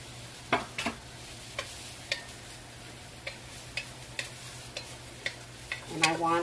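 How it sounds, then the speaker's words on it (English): Chopped onions sizzle softly in chicken grease in a pan, a faint steady hiss broken by scattered light ticks and clicks, with a brief louder stir at the end. "I'm going to go ahead and put in my chopped onions in here"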